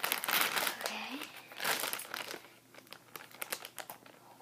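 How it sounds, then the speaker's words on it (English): A squishy package is cut open with scissors, with close crinkling and tearing of plastic packaging in irregular bursts and a brief vocal sound near the start. "So I'm gonna go ahead and open these up with my scissors."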